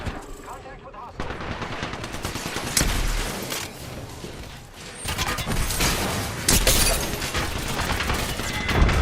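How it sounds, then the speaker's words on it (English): Dense, loud bursts of automatic gunfire and overlapping shots from enemies in the battle game Apex Legends, sustained throughout with crashes and mechanical clatter mixed in. "The enemies are shooting."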